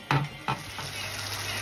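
Sardine sauce with added water bubbles in a pan with a steady, soft hiss, broken early by two sharp utensil knocks against the pot.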